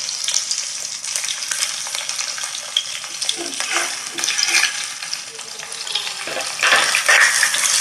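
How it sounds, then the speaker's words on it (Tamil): Garlic, onion and tomato sauté in a pan for a fish curry, sizzling steadily up close with spoon stirs and scrapes through the whole stretch, and nobody talking. "இப்போ பூண்டு வெங்காயம் நல்லா வதங்கட்டும்."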